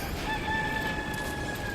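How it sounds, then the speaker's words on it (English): Rooster crowing in the video game Death Stranding 2, a clear drawn-out cock-a-doodle-doo over a dense background hiss, heard once with no talk. "Is that a rooster?"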